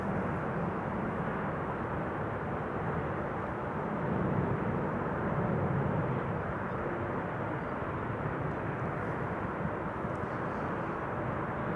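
A steady broad roar from an EasyJet Airbus A320neo arriving at Amsterdam Schiphol from Edinburgh, a continuous, fairly loud engine rush that swells slightly midway and holds without breaks.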